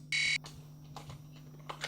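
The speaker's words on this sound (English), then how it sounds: "hold down the power button and you'll get 3 confirming beeps that let you know that the alarm's turned on" A Nash Siren RS-1 carp-fishing bite alarm receiver powers up with a single loud, sustained electronic beep, followed by soft handling noises nearby.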